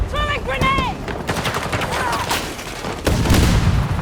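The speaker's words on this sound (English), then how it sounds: "That grenade did not do what I needed it to do." Battlefield 6 gunfire crackles in rapid bursts alongside a grenade explosion, with a heavier blast near the end; harmonic game tones ring early and a voice speaks briefly underneath.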